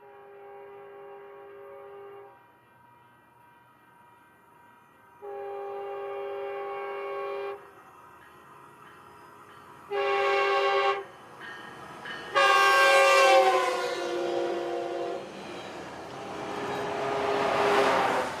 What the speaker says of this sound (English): A westbound Metrolink approached on the San Gabriel Sub.